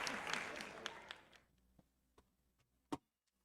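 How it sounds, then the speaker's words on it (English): Applause from a small group fades out over about a second and a half, followed by a few scattered claps and a final sharp clap, heard fairly close and fairly quiet. "Let's give them a round of applause."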